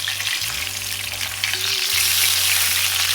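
A 1-inch steak sizzles in a hot pan, the frying swelling louder and brighter as the meat is turned over, a close continuous hiss with a low hum beneath and no talk.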